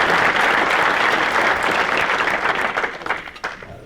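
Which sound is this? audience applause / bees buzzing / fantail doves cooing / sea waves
audience applause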